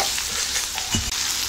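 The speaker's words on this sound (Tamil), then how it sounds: "பொடியா கட் பண்ணி வச்சிருக்கிற வெங்காயத்தை வதக்கிடலாம்" Finely chopped onions with curry leaves, green chillies and salt sautéing in a pan over a medium flame for mushroom gravy, with a steady sizzle and an occasional stir or scrape of the spoon.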